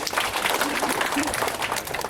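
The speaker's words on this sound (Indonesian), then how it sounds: "Tepuk tangan untuk pengawas." Audience applause for the supervisors at a Ministry of Religious Affairs civil servants' gathering and Halal Bihalal event, a dense, steady wash of many hands clapping with voices mixed in.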